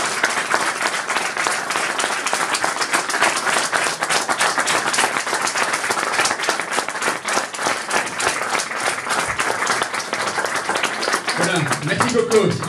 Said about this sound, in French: j'aimerais bien vous demander à tous un tonnerre d'applaudissements pour Coco